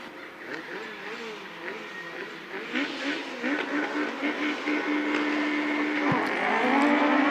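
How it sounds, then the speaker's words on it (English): Autograss Class 9 race cars leave the start line at a British autograss series meeting, their engines revving and rising into a growing roar under an announcer's voice. "Men's Class 9 is away from the line"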